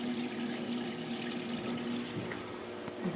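Water spills steadily into an aquarium's pre-filter compartment, a continuous close rushing and pouring sound with no breaks, alone without talk.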